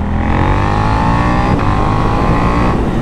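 KTM 890 Duke motorcycle accelerating hard in sport mode on a cold, dry road, engine loud and close with a steady rising growl throughout, no talk.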